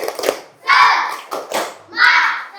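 Children at a school session perform the rhythmic clapping game tepuk semangat, with bursts of group clapping alternating with chanted young voices in a short, patterned sequence.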